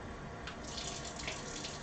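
Tap water runs steadily into a cup while measuring water for a caramel brownie mix, a close, continuous splashing stream with no talking.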